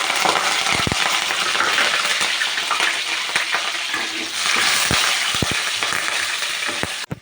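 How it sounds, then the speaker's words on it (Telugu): Tempering spices hit hot oil for a dried-fish and mango curry, making a loud, continuous close sizzle scattered with sharp pops and clicks. "పోపు ఇందులో వేస్తున్నాం"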